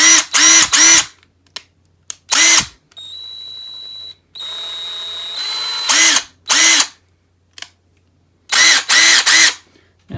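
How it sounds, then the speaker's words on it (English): A Bauer impact wrench from Harbor Freight fires in loud, close bursts, several short rattling trigger pulls separated by silence, with a couple of longer steadier whirring runs in the middle. "it feels like a standard impact wrench from the ones that I've used"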